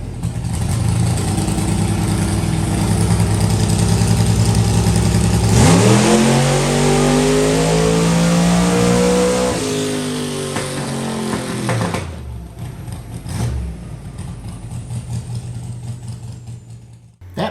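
A loud, close dragster engine roars and revs steadily upward during a dyno pull, running badly, rising in pitch for several seconds before cutting off and winding down into a rough idle.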